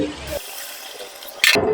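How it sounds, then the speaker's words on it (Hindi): Chicken stock pours into a pan of fried chicken and vegetables for Chinese rice, a brief rushing liquid splash that starts and stops abruptly, close and fairly loud. "अब इसमें मैं स्टॉक डाल दूंगी।"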